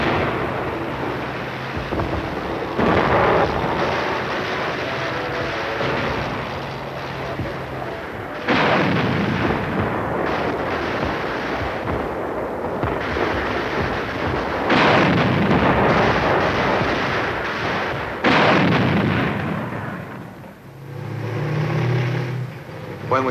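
Artillery guns firing in repeated heavy bursts alongside infantry, with loud booming blasts and rumbling bands of sustained fire separated by short lulls, no voices.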